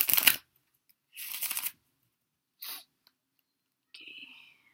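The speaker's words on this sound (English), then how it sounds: "So I'll just shuffle this." Angel cards shuffled by hand in three short, separate bursts of riffling, close and fairly quiet, with a brief softer rustle at the end.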